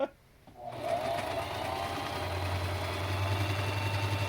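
A sewing machine stitches a fabric mask with a close, steady mechanical whir and rapid needle chatter. It starts after a brief pause and then runs continuously.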